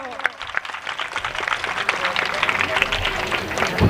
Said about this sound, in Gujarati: જોરદાર તાળીઓ